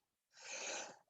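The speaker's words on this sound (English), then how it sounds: "I'm going to sneeze." A single faint sneeze, a short breathy burst of about a second, heard alone in near silence.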